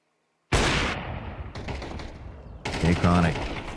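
Bursts of rapid gunfire from a Tech 9 and other weapons in a Crossfire esports match, loud and close, arriving in several separate volleys.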